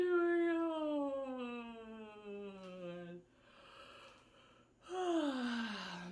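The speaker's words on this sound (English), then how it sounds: "Yawning is so great." A singer yawning during a vocal warm-up: a long, high, gliding breathy yawn that falls in pitch, a short quieter pause, then a second rising-and-falling yawn, close and alone.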